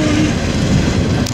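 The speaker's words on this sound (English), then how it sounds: "This is a hot train for sure." A freight train rolls past on the tracks at Tehachapi, a loud, close, continuous rumble with faint wheel rattle through a short stretch.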